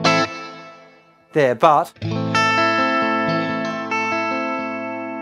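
Electric guitar chords ring out through a reverb effect with modulation, sustained and shimmering with a long tail, briefly interrupted by a short spoken phrase before a fresh chord rings on.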